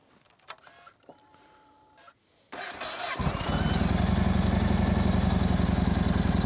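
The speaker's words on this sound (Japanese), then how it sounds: "ではエンジンをかけます。" A motorcycle engine cranks and catches, settling into a loud, steady idle with a rapid even throb after a few quiet handling noises; the bike has a phone holder clamped near the down tube.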